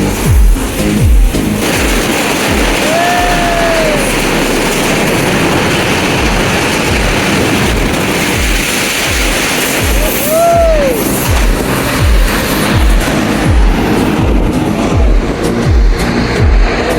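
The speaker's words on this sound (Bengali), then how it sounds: "সাথে ট্রেন চলে আসে" A train crossing the old iron bridge at Ullapara gives a loud, continuous rumble with rhythmic clatter of wheels on the metal span, and two drawn-out horn blasts ring out over the din.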